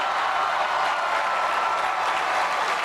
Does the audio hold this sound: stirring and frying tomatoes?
no